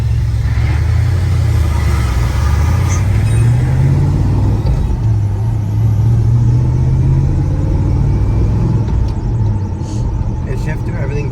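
A 1979 Chevrolet Camaro Z28 with a four-speed manual drives steadily, its engine droning loud and close throughout with gear changes shifting the pitch, under a constant road rumble.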